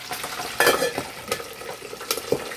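Chicken feet fried in hot oil for Chinese dim sum-style chicken feet, giving a close, steady crackling sizzle with bursts of louder spattering and occasional stirring clatter, no voices.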